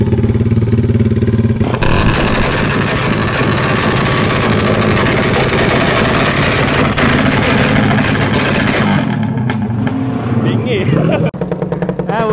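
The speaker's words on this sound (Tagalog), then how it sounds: "Bumabackfire yung Mio." A loud Yamaha Mio scooter engine runs steadily throughout, its rough idle broken by sputtering backfire pops, with voices talking over the noise.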